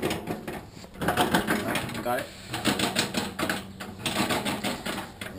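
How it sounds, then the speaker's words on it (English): Bread maker on its dough setting, the paddle churning with a rhythmic mechanical clatter and whir, close up, while a person speaks briefly over it. "See, what it's doing is just churning."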